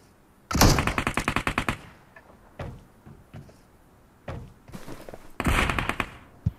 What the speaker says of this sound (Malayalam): ഒരു ഗൺ ഫൈറ്റ് ആണ്